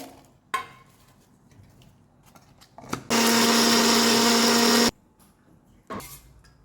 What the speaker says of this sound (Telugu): వేయించి చల్లారి పెట్టుకున్న ఇవన్నీ కూడా మిక్సీ జార్లో వేసుకొని పౌడర్ చేసుకోవాలి